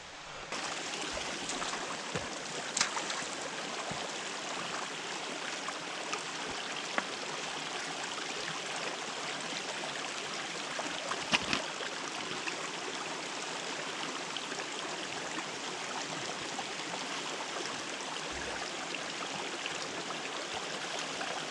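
A stream flows near a campsite with a steady, broadband rushing and gurgling wash that stays even throughout, with a few faint knocks now and then and no voices.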